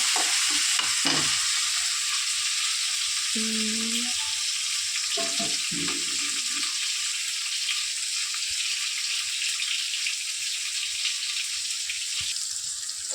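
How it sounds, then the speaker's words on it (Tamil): Tomatoes and onions fry in a pan for a tamarind-based sundakkai kuzhambu, a soft continuous sizzle with a few clattering stirs and scrapes early on, then an even frying hiss. "தக்காளி போட்டுக்கலாம். தக்காளி நல்லா வதங்கட்டும்."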